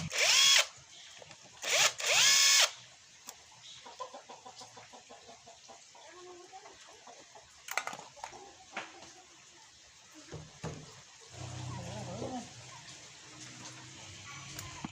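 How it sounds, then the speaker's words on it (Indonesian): A size 10 socket wrench unscrews nuts on a Yamaha motorcycle engine: a few loud whirring bursts of a power tool up front, then quieter scattered clicks, taps and metallic scrapes close by, with faint background sounds. "Kemudian dibuka menggunakan kunci sok 10."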